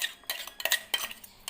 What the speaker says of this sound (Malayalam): ഇനി നമുക്ക് മിക്സ് ചെയ്യാം, നോക്കാം.